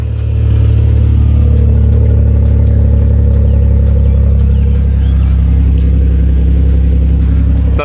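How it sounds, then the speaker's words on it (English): Idling engine of a 2010 Chevy Impala fitted with aftermarket exhaust, a loud, deep, steady rumble recorded up close, holding a constant drone with slight fluctuations before cutting off abruptly at the end. "as you can hear, I got aftermarket exhaust on mine."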